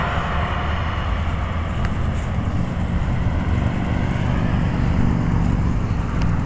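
A big truck drives past a plaza parking lot, a steady, loud low engine rumble and road noise holding throughout without speech.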